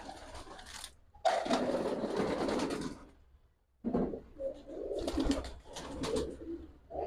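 Pakistani high flyer pigeons, a pair sitting on two eggs in a loft, give low rolling coos in two long bouts separated by a pause, close and moderately loud with no talk.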